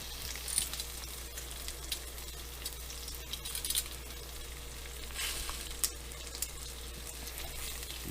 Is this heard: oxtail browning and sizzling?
yes